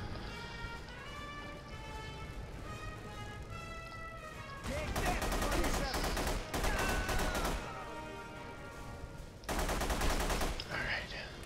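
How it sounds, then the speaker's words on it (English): A pump shotgun blasts in rapid succession in the game The Punisher on PC, with loud bursts of firing in two main clusters after a stretch of quieter background and voices. "that's a pump shotgun. There's no way in hell you could fire that fast."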